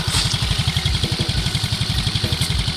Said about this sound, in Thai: โอเคครับเงียบกริบนะครับ เสียงเครื่องยนต์